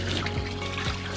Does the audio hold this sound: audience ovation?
no